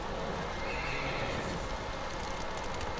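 A horse in Ghost of Tsushima gives a loud, drawn-out neigh close by, with hooves clopping against a dense wash of background noise.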